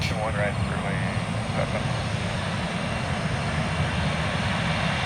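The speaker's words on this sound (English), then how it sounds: "Looks like a 738." A Boeing 737-800 airliner passes close at Tampa in the early morning, a steady, broad jet engine roar that holds level throughout without fading.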